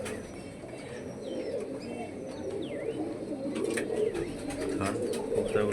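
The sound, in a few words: pigeons cooing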